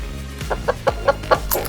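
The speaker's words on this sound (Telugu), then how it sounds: "మన కోడి పెద్దది అయిపోయింది" A cartoon chicken clucks in a quick series of about six short, evenly spaced clucks, moderately loud over a low background hum.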